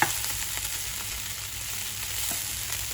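Beetroot tossed into a pan of sizzling meat, a dense, even frying hiss that starts with a brief clatter and runs steadily and close throughout, no voices.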